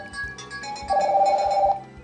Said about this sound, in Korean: 전화를 걸어보겠습니다. 자, 지금 신호가 가는데요.